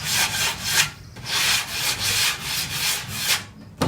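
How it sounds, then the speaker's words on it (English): A wooden shelf is sanded by hand with a sanding block, a close, rhythmic scratching of repeated strokes back and forth, heard alone. "And you grab your regular sand block and you sand with the grain first."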